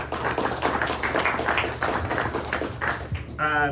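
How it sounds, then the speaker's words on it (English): Luncheon audience in a hotel banquet room clapping for Harry's Plaza, a scattered round of applause with distinct individual claps, ending as a voice begins. "let's give a round of applause for Harry's Plaza"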